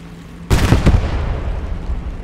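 A single loud artillery blast booms suddenly out of quiet in a video game, followed by a lingering low rumble that slowly fades.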